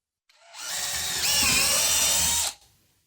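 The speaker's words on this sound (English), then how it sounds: "right there is where we will drill our hole for our pivot point" A power drill bores a pivot hole in a wooden circle-cutting jig, one loud whine of about two seconds that spins up, bites into the wood midway and stops abruptly.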